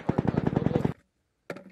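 Rapid live-fire machine gun burst at a Marine Corps training range, about a dozen loud, evenly spaced close shots over roughly a second, a pause, then another shot starting.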